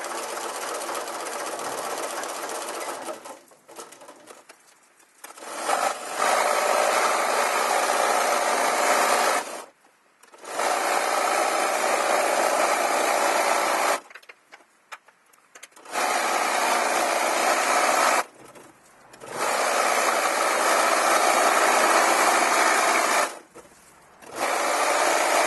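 Sewing machine running a satin stitch along a fabric postcard, loud steady whirring bursts of several seconds each, separated by short pauses, close and alone.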